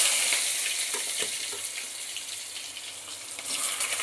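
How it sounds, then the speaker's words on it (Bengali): Boiled potato and teasel gourd hit hot oil seasoned with five-spice, making a loud, steady sizzle that fades slightly and swells again near the end, with faint stirring clicks and no talking. "এবার আমি এই আলু আর কাঁকরোল যে সেদ্ধ করে রেখেছি এটা তেলের ওপর দিয়ে দেবো।"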